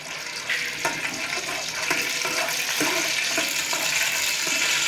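Cloves and green cardamom sizzle in hot ghee while tempering spices for Pakistani zarda rice. A close, steady crackling hiss is heard with small pops scattered through it and no voices.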